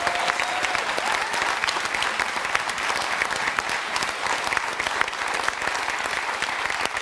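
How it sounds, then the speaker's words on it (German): Loud, sustained studio audience applause at a German talk show, steady dense clapping filling the room without a break from start to finish. "Und jetzt bitte einen tosenden Applaus für ihn"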